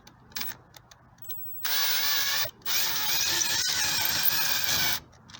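A power driver fitted with a Makita Gold bit backs out a screw, with a short whir first, then two longer loud bursts of whining motor and grinding separated by a brief pause.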